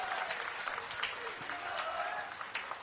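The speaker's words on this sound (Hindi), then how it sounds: "जोरदार तालियां बजनी चाहिए।" An audience at a wholesale readymade garment dealers association's 50th golden jubilee celebration claps. The scattered applause is moderately loud and irregular, with a voice faintly audible underneath.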